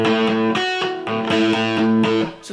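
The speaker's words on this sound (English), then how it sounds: "let me turn on some distortion" An electric guitar played through a distortion effect rings out in sustained, rhythmic chords with brief breaks between strums, loud and alone with no talk.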